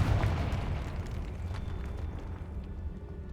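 A Confringo spell explosion shatters a statue in the Hogwarts Legacy video game, a heavy booming blast at the start trailing into a low, gradually fading rumble of debris, with no voices.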